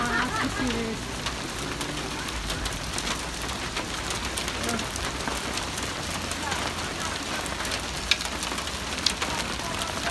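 Hail falling steadily in Los Angeles, California, a dense broadband patter of stones striking surfaces, continuous and fairly close, with a few sharper clicks and people speaking at times underneath.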